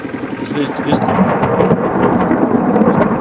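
Heavy rumbling thunder from an electrical storm in South Africa rolls continuously alongside steady rain, loud and close throughout.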